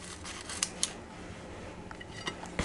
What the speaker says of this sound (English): Hey, you cut quesadillas.